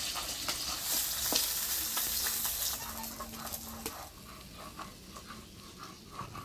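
Fish fries in oil with a busy crackling sizzle that eases toward the end, a faint tonal hum in the middle and scattered kitchen clicks.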